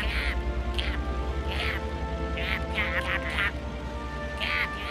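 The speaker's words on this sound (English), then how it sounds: "if you listen closely, these ducks will tell you exactly what they're doing" Ducks quack in repeated bursts over a steady low hum, with several birds calling at once in an irregular rhythm.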